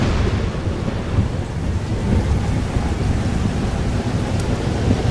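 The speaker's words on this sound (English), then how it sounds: "It's here too. But there wasn't a storm the day Safi died" A thunderstorm in Life is Strange: Double Exposure, with a steady loud wash of heavy rain and low rumbling thunder that fills the whole stretch without any voices.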